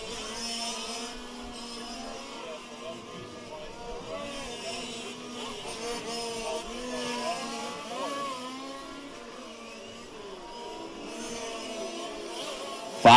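Fifth-scale race cars in the 2018 STC main event whine around a track, their small engines droning steadily and overlapping with rising and falling pitch, moderately loud with a sharp burst at the end.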